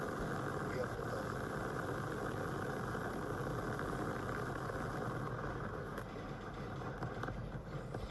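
SpaceX Starship rocket engines roaring at liftoff on the 12th test flight, a dense continuous low rumble that stays loud and steady throughout, with launch commentary voices heard over it.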